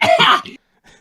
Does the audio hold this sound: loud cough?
yes